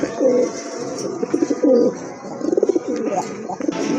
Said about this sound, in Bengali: এই যে দেখেন কবুতর সাইজ কিন্তু অনেক বড়, বিশাল সাইজের কবুতর